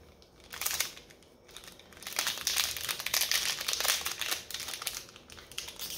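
A Commander Legends trading card pack's foil wrapper crinkles and tears close up, bursts of crackling rising and falling over several seconds.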